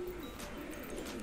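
Pigeons coo softly nearby in a short, low, throaty warble, faint against quiet background noise.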